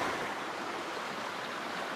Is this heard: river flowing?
yes